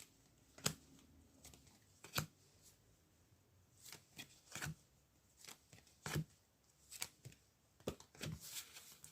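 Tarot cards are shuffled and drawn by hand in a quiet room, a series of crisp riffling bursts and soft snaps spaced a second or two apart, close and fairly faint.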